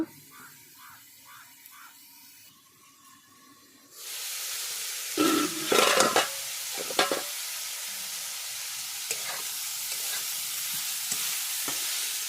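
Beetroot pieces fry in a pan over low heat, first a quiet stretch of soft stirring taps, then a steady close hiss and sizzle with a few louder scrapes and clinks near the start.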